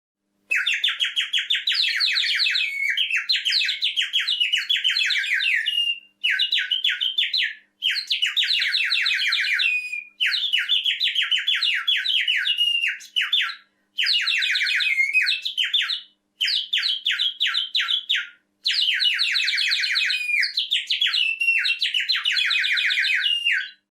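A clay bird whistle toy gives shrill, rapid warbling whistles like birdsong in repeated bursts separated by short pauses, loud and close with no other sounds.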